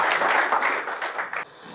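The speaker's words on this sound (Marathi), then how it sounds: "जोरदार टाळ्या." An audience claps for a prize winner, a short burst of loud, close applause that cuts off abruptly near the end, leaving quiet room tone.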